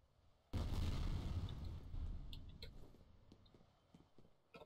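A grenade detonating in the shooter game F.E.A.R. Extraction Point, a sudden loud blast followed by a rumbling tail and scattered debris clatter, with scattered sharp pops fading out.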